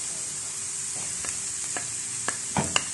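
Sliced onion and bell pepper sauté in oil in a pan, a soft steady sizzle broken by a few clicks and scrapes of stirring.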